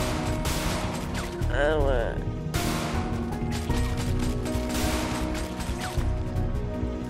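Rapid gunfire in Grand Theft Auto V comes as bursts of sharp shots, mixed with other game noise and a brief warbling sound, while a man gives a short pained cry partway through.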